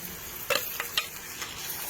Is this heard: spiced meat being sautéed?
yes